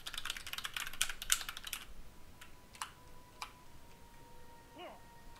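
Rapid keystrokes on a computer keyboard clatter in a quick burst as a chat message is typed, then a few sparse clicks follow, fairly close and clear over faint game background.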